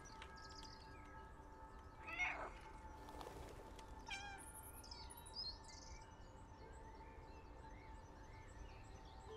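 A cat meows once, clear and close, in the video game Stray, over a steady outdoor ambience with bird chirps scattered through the background.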